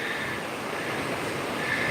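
Ocean surf washes steadily onto Primitive Beach, a sandy shore in New South Wales near Sydney, as a constant close hiss of breaking waves with some wind buffeting the microphone.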